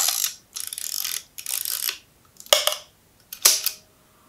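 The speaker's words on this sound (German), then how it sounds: "es gibt hier an der Seite eine Kurbel, mit der man sowohl zum nächsten Bild spult, als auch automatisch den Verschluss spannt" The side crank of a Mamiya twin-lens film camera ratchets in five short, crisp bursts as it winds the film and cocks the shutter, close and clear with no talking.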